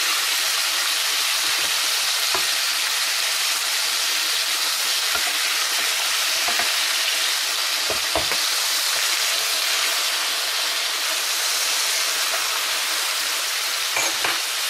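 Potatoes frying in hot oil in a pan, a loud continuous crackling sizzle with bright hiss, close up and steady for the whole stretch, with occasional faint pops and clinks.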